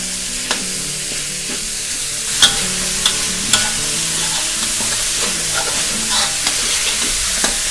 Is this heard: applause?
no